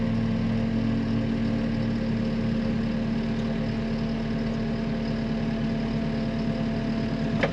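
A mower engine with its hydraulic flow engaged drones steadily and loudly up close, holding an even, continuous hum throughout with no voices.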